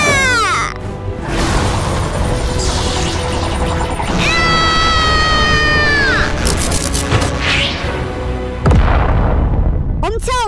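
Cannon fire and explosion in a Skibidi Toilet animation: loud booming bursts and crashing impacts over busy music and effects, with cartoon voices and squeals around them.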